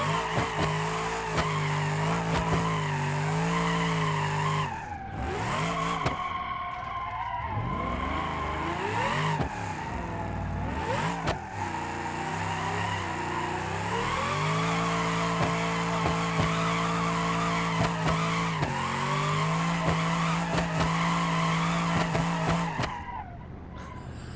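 A car with drift suspension in the BeamNG.drive video game slides through long drifts, its tires squealing loudly and almost continuously over a revving engine, with short breaks between slides.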